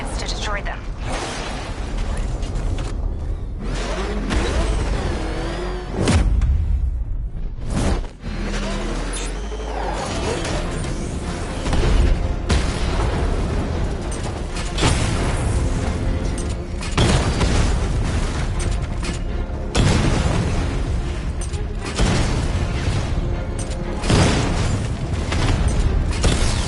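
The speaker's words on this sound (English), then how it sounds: "Your 60mm cannon will penetrate these heavily armored units, but it'll take a few direct hits to destroy them." The Batmobile's 60mm cannon fires on heavily armored units in Batman: Arkham Knight, with repeated heavy booms and explosions over a constant mechanical rumble and a voice speaking in parts.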